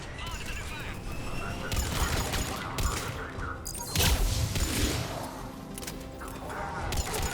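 Sustained gunfire and explosive bursts in the Mass Effect 3 video game during a checkpoint battle, dense overlapping shots and thuds with radio-style voices talking over the combat.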